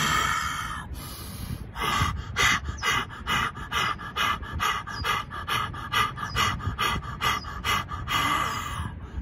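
Heavy rhythmic breathing exercise for lung cleaning, loud forceful panting breaths repeated rapidly and steadily, close and alone without speech.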